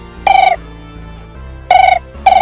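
Telephone ringtone ringing in three loud bursts with short pauses between, steady electronic tone, close by with no talk over it.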